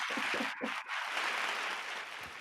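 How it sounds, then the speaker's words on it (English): An audience claps during a product presentation, a dense, even wash of applause that fades a little toward the end, with brief voice-like sounds near the start. "Please hold the applause."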